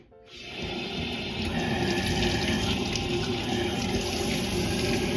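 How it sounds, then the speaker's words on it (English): Cold water runs steadily from a kitchen tap as an onion is rinsed under it, a loud continuous splashing gush that starts abruptly and holds without pause. "So if you rinse your onion with cold water, that should help as well."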